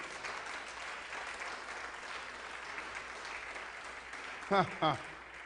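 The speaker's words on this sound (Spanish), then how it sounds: "Aplaudo al Señor entonces" Church congregation clapping during a sermon, a steady wash of applause with a voice briefly speaking over it near the end.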